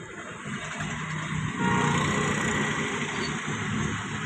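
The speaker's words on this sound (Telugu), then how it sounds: "మెల్లగా హాఫ్ క్లచ్ రిలీజ్ చేసుకుంటూ 0 నుంచి మళ్ళీ 20 స్పీడ్ వచ్చేదాకా మూవ్ చేస్తూ ఉండాలి" A car pulls away in first gear on a slow half-clutch release and builds speed toward 20, its engine a steady, moderate hum with road and cabin noise that swells slightly midway.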